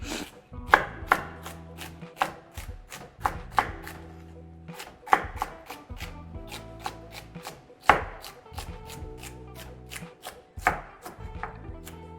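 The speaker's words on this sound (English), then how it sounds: "Same thing with my celery. If it's really thick in the bottom, I try to cut it a little bit." A knife chops celery on a cutting board for chicken stock, making a brisk series of crisp, close thuds in uneven bursts, with no talking.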